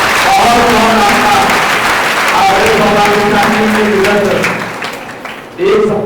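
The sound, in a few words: applause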